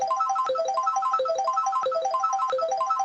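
Mario Kart item box roulette spins as a rapid, looping cascade of bright chiming notes, loud and close, repeating in quick cycles with no talk over it.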